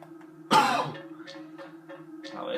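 A single sharp cough bursts out from a man with a recovering sore throat, followed by a short rasping tail, over the quiet hum of a video game in the background.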